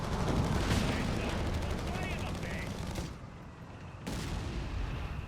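Rapid gunfire and explosions from a Company of Heroes 3 battle with tanks and a pak anti-tank gun rattle loudly and continuously, briefly easing before bursting back in, with a commentator talking over it.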